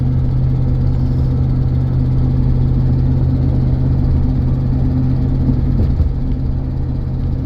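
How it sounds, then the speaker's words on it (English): A 2001 Ford F150 pickup cruising along with a slightly louder exhaust: a steady low engine drone with a throaty exhaust rumble, continuous and fairly loud throughout. "So it does have a little bit louder exhaust. You can hear that."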